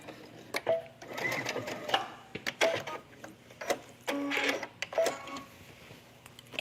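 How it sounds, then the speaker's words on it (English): A sewing machine stitches down a tunic placket to the corner, running in short close bursts of rapid mechanical whirring separated by brief pauses. "I'm stitching all the way down to the corner."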